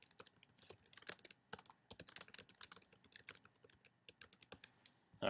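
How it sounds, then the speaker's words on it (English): Someone types a message on a computer keyboard, a quick, irregular run of close, crisp keystroke clicks with brief pauses between bursts. "and then type your message."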